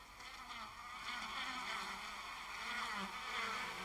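Steady, dense buzzing of many bees, a continuous droning hum with no voices, slightly swelling in loudness over a few seconds.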